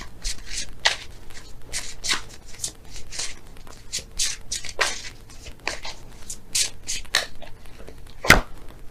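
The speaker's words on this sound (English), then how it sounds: "I'm going to pull an extra card for you guys." Tarot cards are shuffled and drawn by hand, close-up riffling and slapping in a brisk uneven rhythm of repeated soft bursts, ending with one sharp snap of a card.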